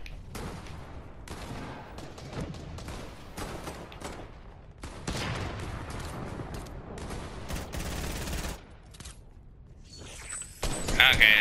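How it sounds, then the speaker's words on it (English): Rapid bursts of gunfire from the video game Fortnite crackle in repeated volleys, loud and close, with brief pauses between and a sharper burst near the end. "Somebody's shooting at me!"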